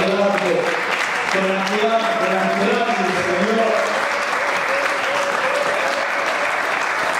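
Church congregation applauding and cheering: dense clapping runs throughout while voices shout and call out over it early on, then the clapping continues alone, loud and close.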